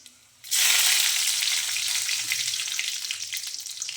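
Cinnamon sticks and cardamom pods dropped into hot oil for tomato rice, setting off a loud, steady sizzle that starts abruptly after a short quiet moment and holds up to the end, with no talking.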